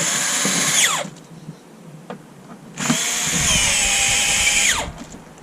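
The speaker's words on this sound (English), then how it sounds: "for speed and convenience we'll use the power driver." A power driver whirs in two long bursts, driving screws into a bedboard during a micro car camper conversion, the motor pitch sweeping down as each screw seats, with a quieter gap between.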